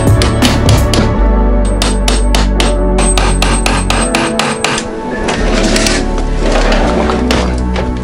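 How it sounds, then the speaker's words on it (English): A chisel is struck repeatedly into wood inside a school bus tiny-home conversion, giving loud, sharp, evenly spaced knocks with a brief lull midway before the blows resume. "I decided to go the route of using a chisel to try and just chisel away a little bit of that"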